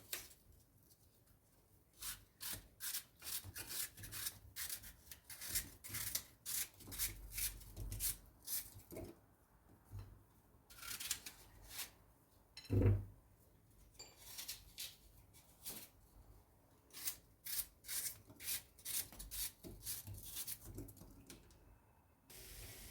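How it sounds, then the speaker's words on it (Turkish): Steady rhythmic knocking of a knife chopping apples against a cutting board, close and fairly quiet, continuing in bursts with brief pauses. "Şimdi bütün elmalarımı doğradım."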